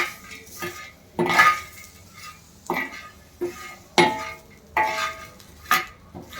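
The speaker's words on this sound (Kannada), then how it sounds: "ಸೊ ಮೆಣಸು ಹಾಕೊಂಡು ಫ್ರೈ ಮಾಡ್ತಿದ್ದೀವಿ" Black pepper dry-roasting in a pan with beans for Karnataka bassaru, heard as a series of rhythmic metal scrapes and clinks of a spatula against the pan, about six strokes, with little sizzle.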